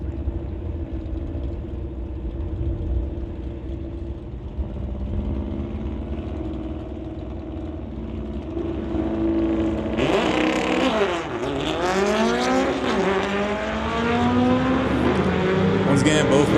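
NHRA Summit ET Series drag race cars, including a Chevy Nova, idle and then launch off the line, engines rising into a loud, sweeping rev from about ten seconds on, with a commentator's voice throughout.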